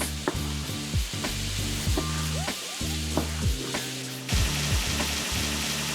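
Onions, garlic and tomato frying in a pan used to sear beef, a loud continuous sizzle with crackling and stirring scrapes throughout, close up with no talking.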